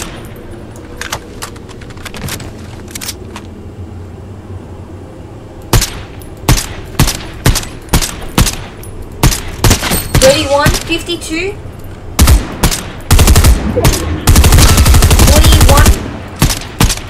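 Fortnite gunfire, a string of rapid sharp shots in irregular bursts that grows into dense sustained firing toward the end, with a player talking over the shooting.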